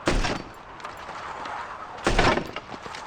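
Gunfire from a weapon in Robocop: Rogue City, two loud bursts of shots about two seconds apart with a noisy, rattling tail between them.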